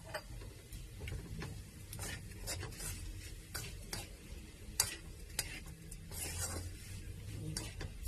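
Chicken pastil browning in a pan, a quiet sizzle with scattered scraping stir clicks and light ticks across the whole stretch, no voices.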